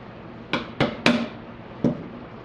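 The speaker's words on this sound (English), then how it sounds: "A few more whacks." Four sharp hammer whacks strike a jammed plastic piece inside a Maxspect Gyre aquarium pump: three in quick succession, then a pause and a fourth, each a crisp close knock with a short ringing tail.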